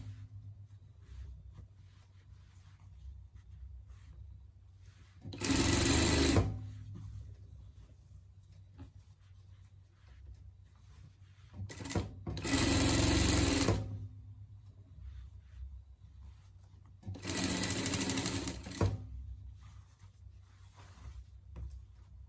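A sewing machine stitches fabric for a pet parka in three distinct bursts of rapid whirring, each lasting about a second, separated by quieter pauses with faint handling sounds.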